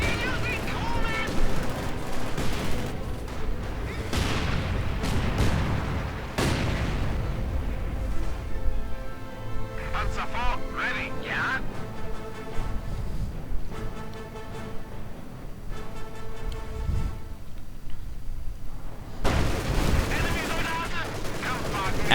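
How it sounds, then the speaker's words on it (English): Company of Heroes 2 battle audio delivers a dense, continuous stream of gunfire, machine-gun bursts and booming artillery explosions, with a commentator talking excitedly over the fighting throughout. "looks like a light artillery barrage is going off in response somewhere else"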